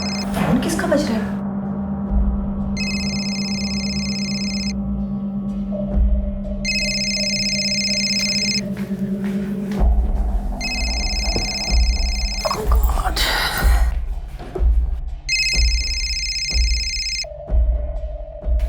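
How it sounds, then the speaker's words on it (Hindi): A phone rings repeatedly in regular electronic bursts, loud and clear, with pauses between rings and some background movement and faint voices. "फोन किसका बज रहा है?"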